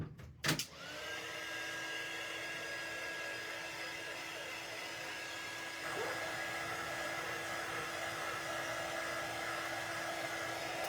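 Hair dryer blowing on painted craft cutouts: a steady, close whooshing roar with a high motor whine that starts abruptly and runs unbroken, growing slightly louder partway through.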